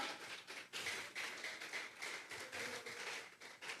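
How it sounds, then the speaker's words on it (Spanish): A Sunday morning church congregation claps as an offering of praise, a fairly faint, uneven patter of many hands in bursts, without speech over it. "Le vamos a regalar ofrenda de palmas al Dios de la gloria"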